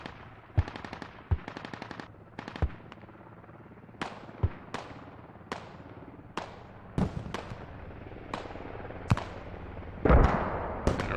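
Mortar shells landing in the video game Battle Cry, sounding as a long series of sharp blasts and cracks at irregular intervals, some close and loud, others fainter, with a rumbling burst near the end.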